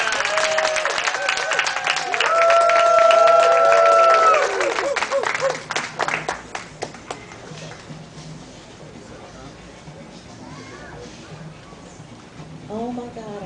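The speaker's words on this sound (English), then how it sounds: "So please give a warm round of applause to Heather Brichet." Audience applause at a community gathering of neighborhood activists, loud clapping under music that fades after about six seconds into scattered claps, followed by quieter room sound.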